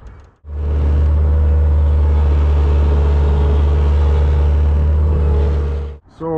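A vehicle engine runs steadily at a job site on a crisp morning, a loud, close, continuous low rumble that holds for several seconds before cutting off abruptly.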